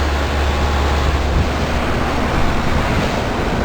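Outdoor unit of a heat pump running in heat mode, a Lennox from 2000 or a Ducane from 2014 with ice still on its coils, its fan giving off a loud, steady whooshing roar close to the microphone.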